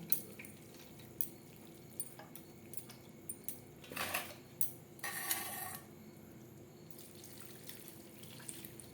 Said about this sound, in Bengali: আবারও ঠান্ডা জল দিয়ে ধুয়ে নেব যাতে একটার গায়ে একটা লেগে না যায়